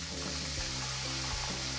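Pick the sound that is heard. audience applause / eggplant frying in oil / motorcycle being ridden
eggplant frying in oil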